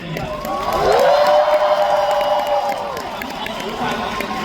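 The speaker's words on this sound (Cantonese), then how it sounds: "可唔可以俾啲掌聲啲人？" Studio audience at a televised singing competition breaks into sustained applause and cheering, with whoops rising over the clapping and holding steady throughout.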